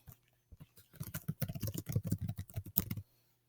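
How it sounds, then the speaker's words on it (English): Clicky keystrokes typed on a computer keyboard at close range, a quick irregular burst of taps running for about two seconds after a single early tap, with no talking. "You're going to click here and type your name."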